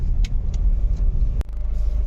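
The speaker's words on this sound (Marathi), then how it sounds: "गाड्या खूप आहेत पण मुव्हिंग ट्रॅफिक आहे" A car travels through busy but moving road traffic, a steady low engine and road rumble running throughout, with a few faint higher tones above it and a brief sharp click partway through.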